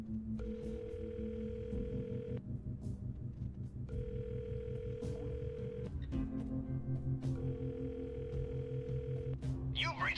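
A telephone in a game scene plays three long, steady, repeating tones over a low music bed, with short clicks near the end.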